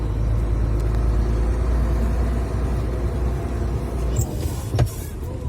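A car rolls along a city road toward the Left Bank of Kyiv in February, heard from inside as a loud steady rumble of tyres and engine, with a brief clunk near the end and no talk.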